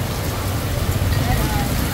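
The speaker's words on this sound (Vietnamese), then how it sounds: "ngày mưa ngày gió nè" Rain pours down on a stormy, windy day at an outdoor food stall, a loud, dense, unbroken hiss of drops striking surfaces with a rumbling low wash of wind beneath.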